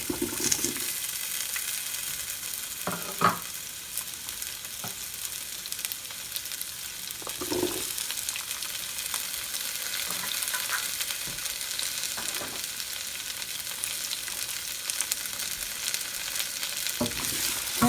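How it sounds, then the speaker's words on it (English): Potatoes and onions brown in a hot pan over high heat for a vegan beef bourguignon, giving a steady broadband sizzle with occasional scrapes and clicks of stirring, heard alone with no talk. "We're going to brown these up under a high heat for a few minutes."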